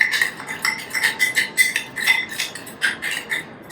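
A utensil repeatedly clinks and scrapes against a bowl while burger sauce with dill relish is stirred for smash burgers, a quick steady rhythm of close metallic taps with no talking.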